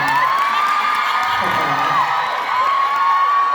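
A crowd of fans screams continuously in a loud, high-pitched wash of shrieks and cheers that holds steady from start to finish.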